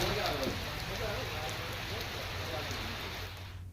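Steady rain falls over villages in a monsoon downpour, a dense continuous hiss that is close and moderately loud throughout, with a murmur of voices or noise underneath, ending abruptly.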